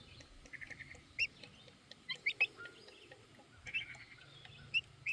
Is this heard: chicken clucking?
yes